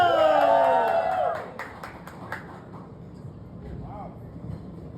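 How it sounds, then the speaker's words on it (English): An audience at a Lee Cooper denim collection launch breaks into a short burst of cheering and applause, loud at first and then fading into scattered claps and room murmur. "Big round of applause!"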